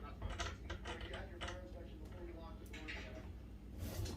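Bolt cutters snip during the mounting of a gray fox, giving a series of short, close mechanical clicks and crunches at irregular intervals over a low background.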